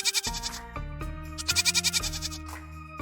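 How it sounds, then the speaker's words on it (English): A goat bleats twice with quavering, wavering cries over a gentle musical backing. "Goats say, meh meh."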